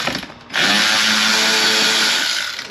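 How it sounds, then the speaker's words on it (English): A power tool backing bolts out of the radio area of a MK5 Volkswagen GTI during weight reduction, a sudden close whirring drill burst that holds steady for about two seconds, loud and alone. "I'm just taking out the bolts and see."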